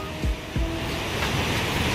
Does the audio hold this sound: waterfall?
yes